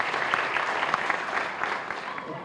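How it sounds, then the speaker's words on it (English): An audience at a city's State of the City address breaks into a sustained round of applause, thick and even clapping from many hands filling the room from start to finish. "Let's give another round of applause."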